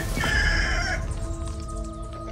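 A fighting rooster (gamecock) in Guadeloupe crows once, loud and close, the strained call trailing off over faint background noise.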